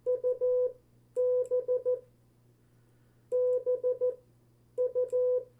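CW Morse code practice letters U, W and B sent in groups of two: clean steady tone beeps in quick dot and dash patterns, four short bursts with pauses between them, clear and alone.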